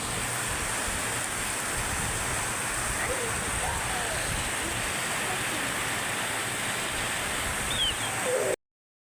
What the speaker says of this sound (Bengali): তো অনেক জোরে বৃষ্টি আসতেছে দেখেন।